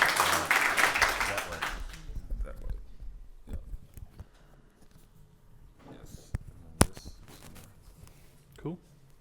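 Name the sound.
meetup audience applauding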